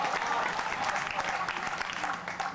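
Audience applause fills a Hindi poetry recital (kavi sammelan) in Dewas, Madhya Pradesh, a dense, sustained clapping from a crowd that stays loud throughout.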